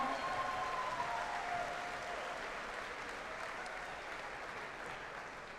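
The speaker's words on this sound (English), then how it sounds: "Can we give a round of applause for Keaka for that amazing song?" A school Easter assembly audience gives a round of applause after a student's song, a soft, distant, even wash of clapping with a faint tonal trace early on.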